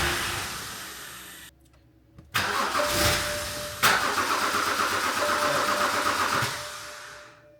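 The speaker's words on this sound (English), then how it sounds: "we're going to crank it for 10 seconds" A BMW engine cranks on its starter, a steady rapid churning that briefly drops out, then resumes loud and continuous for several seconds before fading, close up with no talk.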